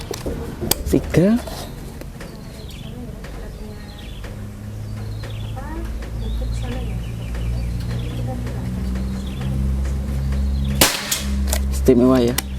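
A single sharp shotgun slug shot, fired from a prototype barrel at a 50-metre test range, cracks loudly near the end, following a stretch of quiet background with chickens clucking and a low hum.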